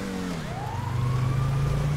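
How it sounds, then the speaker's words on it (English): A police car siren in GTA 5 wails loud and steady, its pitch sweeping upward and holding over a constant engine rumble, with other tones fading out beneath it. "I hear another siren."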